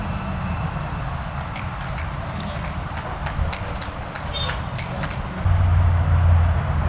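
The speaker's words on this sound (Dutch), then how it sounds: "zoals dit treinstel dat hier binnenkomt" An Arriva Stadler FLIRT train rumbles in steadily up close, a low continuous drone with faint squeals above, growing heavier near the end as it pulls into a station.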